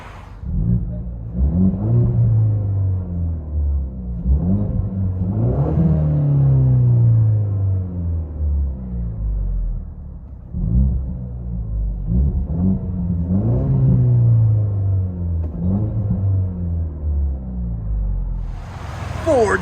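Engine of a 2019 Ford Mustang EcoBoost four-cylinder turbo with rear muffler delete and 5-inch carbon fiber tips, heard from inside the car: a loud, steady low rumble that rises and falls through several rev sweeps across the whole stretch.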